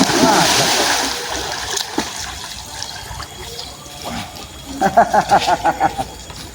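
River water splashes in bursts, with a louder rhythmic series of splashes near the end, heard under a tense exchange between voices.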